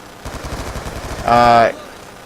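Rapid automatic fire from the SWAT-556 gun in the Black Ops 2 video game, a quick rattling burst followed by a short, loud tonal game sound.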